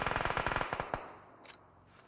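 Automatic gunfire in the mobile battle-royale game PUBG Mobile: a rapid burst of about a dozen evenly spaced shots that stops abruptly, followed by a couple of faint distant pops, fairly quiet overall.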